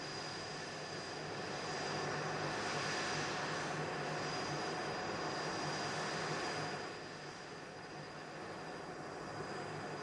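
Blackburn Buccaneer jet aircraft flying, a faint, continuous engine roar with steady tonal whine that swells slightly midway and then eases, with no talk.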